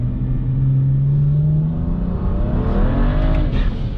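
A Mustang with a Stage 2+ E40 tune revs up hard and loud, the pitch rising steadily as it accelerates close by, with a deep rumble underneath.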